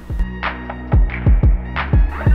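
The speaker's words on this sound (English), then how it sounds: "the printer was able to print the nozzle check pattern" An Epson L130 inkjet printer prints a nozzle check pattern: a run of rhythmic mechanical clicks and short whirring carriage sweeps, close and moderately loud, with a faint steady motor hum underneath and no voices.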